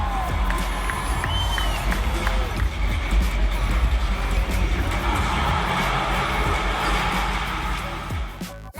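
A crowd at a Lakers basketball game cheers and shouts in a loud, continuous roar that holds steady throughout and fades near the end.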